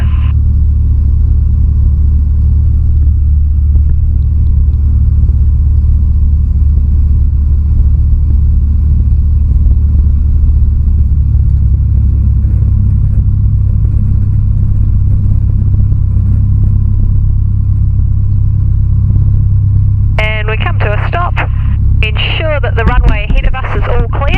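A light training aircraft taxis on the runway at Ardmore, its engine giving a loud, steady low drone throughout, with short bursts of radio chatter cutting in near the end.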